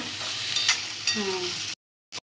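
Onions fry in a pan for a fish curry, a close crackling sizzle with a few stirring scrapes that stops abruptly, followed by silence and one brief burst of sizzle.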